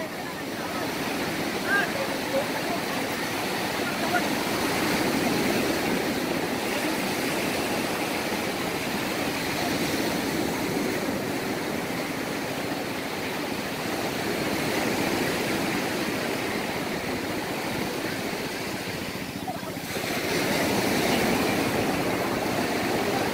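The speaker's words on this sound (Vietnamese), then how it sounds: "sóng buổi sáng" Morning sea waves breaking on the beach at Vung Tau, a steady broadband wash of surf that stays loud and continuous throughout, with a brief dip near the end.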